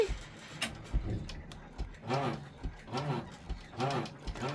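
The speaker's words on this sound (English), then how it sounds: "I'm going to go back 10 stitches, unlock, and start stitching again." An embroidery sewing machine stitches a freestanding quilt block, with quiet, rhythmic mechanical whirring in pulses and a few small ticks, heard close up.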